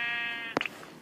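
A blocky Minecraft sheep gives one short bleat as shears clip its wool, following a fading steady electronic tone.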